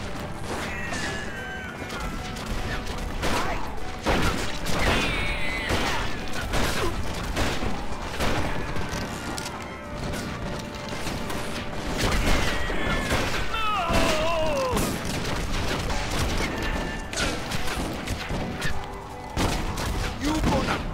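Repeated sharp gunshots in the video game Red Dead Revolver, scattered bursts and single cracks across a busy firefight with thuds and impacts, moderately loud, with a player's voice now and then.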